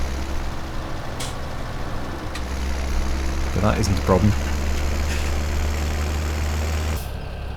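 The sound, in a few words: Case tractor engine in Farming Simulator 17 video game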